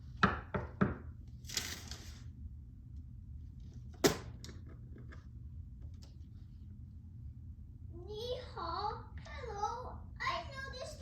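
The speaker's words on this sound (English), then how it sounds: "Suddenly, they heard a knock at the door." A few sharp knocks on a door, up close at the start and once more midway, followed later by a voice speaking.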